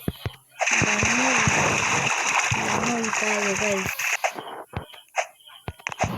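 A game character splashes into a swimming pool in the Brookhaven roleplay game, giving a long bright splashing wash under excited talk and a tonal sound effect, then fading into scattered sounds.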